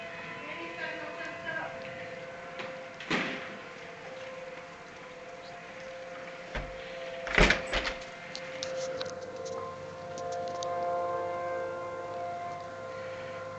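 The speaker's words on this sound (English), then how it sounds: "the sirens are really wailing now here in Wylie" Tornado warning sirens wail across Wylie, Texas during an approaching storm, a steady rising and falling tone in the distance with brief louder bursts and a person talking over it.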